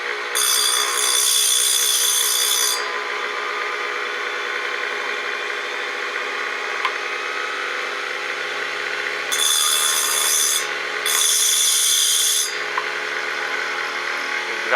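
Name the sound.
DIY grinder sharpener grinding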